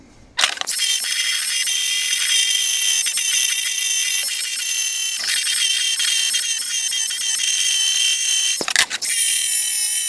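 An angle grinder grinding down a fresh weld on a Chevrolet Trailblazer during a wheel bearing repair, a loud continuous high-pitched whine broken by brief pauses and bursts of scraping near the start and end.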